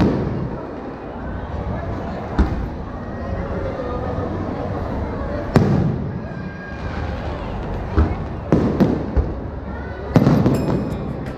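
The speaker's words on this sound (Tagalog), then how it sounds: "Fireworks display happening right now." Fireworks pop and boom at irregular intervals over a steady crowd murmur at the Cosmania 2018 event, with several sharp bursts clustered toward the end.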